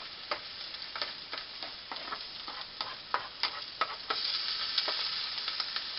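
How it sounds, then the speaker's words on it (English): Peppers and onions sizzle in hot oil in a pan while being stirred, a steady frying hiss with a run of sharp crackles and spoon clicks, close and alone with no talk. "And I love to hear that sizzle."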